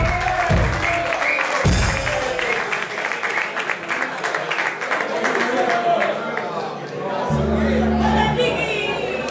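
Applause from a live audience at a rock concert in Gregón, dense clapping sustained throughout with crowd chatter mixed in and low stage rumble and bass hum joining near the end.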